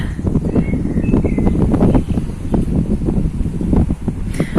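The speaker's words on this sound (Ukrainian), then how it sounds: "як тільки я почала знімати відео, здійнявся вітер і хитає кущики жасмину" Wind gusts through jasmine bushes in an evening garden, a steady close rustle and buffeting roar with faint bird chirps above, no talking.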